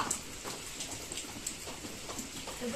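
Steady rain pouring on a rainy day during an outdoor picnic, a dense continuous patter of drops on surfaces with faint ticks and splashes, close and even throughout, no voices.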